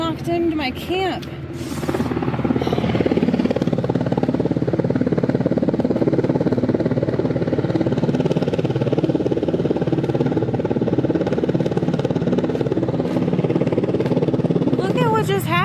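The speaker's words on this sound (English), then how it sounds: "This helicopter just flew in and knocked over everything." Helicopter landing near a forest campsite, its rotor wash knocking over camping gear; a loud, steady engine and rotor roar that swells and holds close by, with a person's voice over the opening moments.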